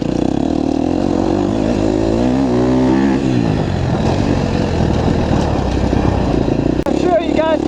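A 2019 KTM 250SXF dirt bike ridden at an easy pace, its four-stroke engine droning steadily and loudly throughout with rising and falling revs, while a rider talks over it.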